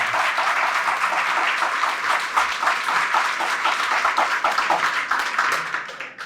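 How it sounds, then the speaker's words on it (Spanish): A church congregation claps together in praise during a Spanish-language Catholic sermon, a dense, even wash of applause that holds steady before tapering off at the end. "Fuertes aplausos al Señor"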